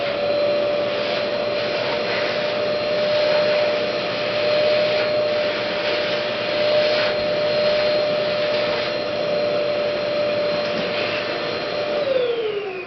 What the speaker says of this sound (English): the next thing we have to do is vacuum out all the dust so we have good adhesion